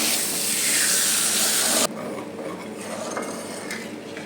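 Spiced cauliflower and potato curry sautéing in a pan with Kashmiri chilli powder gives off a loud hiss and sizzle that cuts off abruptly partway through. Quieter stirring and pan scraping follow.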